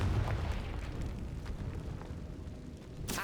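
An explosive Confringo spell goes off in Hogwarts Legacy, giving a deep, rumbling blast that lingers as a low roar and then fades, with a sharp crackle at the end and no talking.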